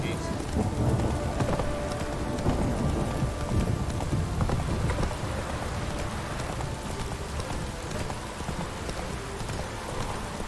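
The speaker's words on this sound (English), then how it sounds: "This downpour's a bastard, it is." Heavy rain pours steadily throughout a thunderstorm in The Witcher 3: Wild Hunt, with low thunder rumbling underneath and hoof clops mixed in, loud and continuous without a voice.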